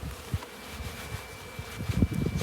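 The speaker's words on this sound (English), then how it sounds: "take a look at these honeybees" Honeybees buzz outside their hive in February, many coming back with pollen, in a soft, steady hum with faint rustling.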